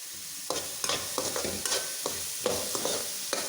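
Onion, tomato and salt sautéing in a pan for a Kerala mushroom masala curry, with a steady frying hiss under a series of sharp, close spoon scrapes and stirs at an uneven rhythm.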